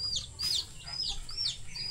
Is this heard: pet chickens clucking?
yes